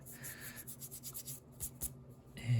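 A rasp files a small carved wooden netsuke shaped like a clam, giving quiet, rhythmic scraping strokes at close range with a few brief pauses.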